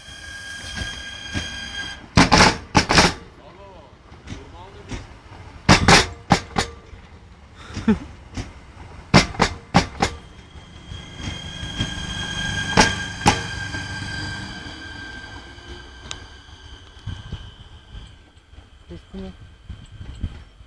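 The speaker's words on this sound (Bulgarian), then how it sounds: "То лек влак спря, майна." A light-rail train rolls along the rails and stops, with sharp metallic clanks and bangs from the wheels and a steady rumble, while people talk nearby.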